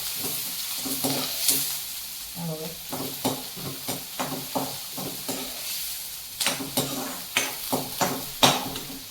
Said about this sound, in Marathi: तर आम्ही कांदा भाजते लाल होईपर्यंत।